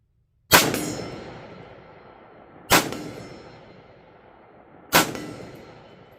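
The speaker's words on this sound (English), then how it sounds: "here's 3 at rapid succession on this gong" A rifle fires three times at a steel gong 50 yards away, each hit a sharp metallic clang that rings and slowly fades, evenly spaced about two seconds apart, with no voices.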